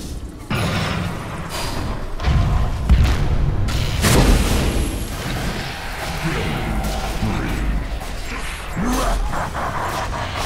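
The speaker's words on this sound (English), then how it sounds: "Radiant's middle tower has fallen." A tower collapses in the Dota 2 battle game, with heavy booming, crashing impacts over dense, loud in-game combat noise; an announcer-style voice speaks at points.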